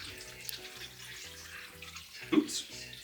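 Guinness and wine are poured into a slow-cooker dish for a Christmas dinner, giving a brief, soft splashing gush over a quiet background with faint tonal hum.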